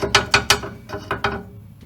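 A bolt is ratcheted out of a vehicle's Panhard bar, which attaches the axle to the frame, giving a quick series of sharp mechanical clicks in two bursts, close and loud with no talk.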